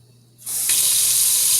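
Hot water gushes from a kitchen tap after a quiet start, settling into a loud, steady hiss of running water.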